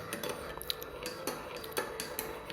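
A spoon stirring honey tea in a cup clinks lightly against the sides in a quick, irregular rhythm, close up and fairly faint, with no voices.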